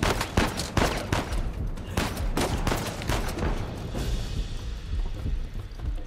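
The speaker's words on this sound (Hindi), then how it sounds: "ओ भाई शॉटगन आ गया अपने हाथ में" Rapid bursts of gunfire, including shotgun blasts, ring out during combat in Uncharted 4, dense overlapping shots that then give way to quieter trailing noise.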